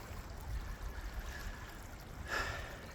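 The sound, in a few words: creek flowing in Middle Tennessee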